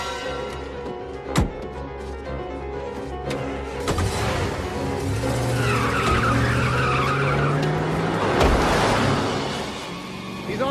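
A car in a movie chase scene peels away with tires skidding and squealing, preceded by sharp thuds and knocks, then a long rising engine whine and screech that swells and fades.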